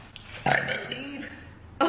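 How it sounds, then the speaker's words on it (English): Someone burps close to the mic in a short, low, grunting eruption that lasts about a second, followed by a brief loud start of another burp or voice. "From burping like that."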